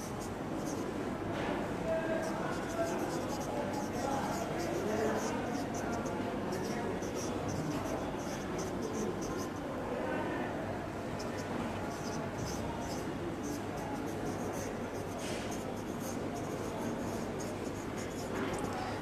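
During a math lesson, a teacher writes on the board with steady scratching and tapping strokes that run throughout under a constant room hiss, close and fairly quiet, with no talking.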